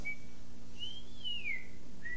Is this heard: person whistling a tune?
yes